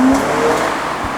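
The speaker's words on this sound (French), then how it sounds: "Le bruit du moteur est discret mais envoûtant." An Alfa Romeo Spider 2.2 JTS 185 drives along with a steady, fairly loud engine and road rumble heard briefly from close by.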